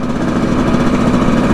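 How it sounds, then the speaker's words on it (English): Dirt bike engine running steadily at a loud, close idle with a continuous buzzing drone and no pauses. "Bike's running good."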